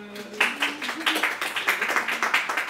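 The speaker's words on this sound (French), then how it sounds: "Vous pouvez l'applaudir." A small audience at a women's class claps for an upcoming bride, a modest round of rhythmic clapping from a few nearby people after a short voice at the start.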